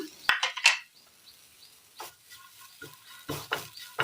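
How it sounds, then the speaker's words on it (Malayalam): Grated coconut tossed into the same pan used to wilt tapioca, stirred with a few sharp scrapes and clinks of a utensil early on, then softer intermittent scraping and rustling at close range. "കപ്പ നമ്മൾ വാട്ടിയെടുത്ത ആ പാനിൽ തന്നെ നമ്മളൊരല്പം തേങ്ങ ഇട്ട് കൊടുക്കുകയാണ്."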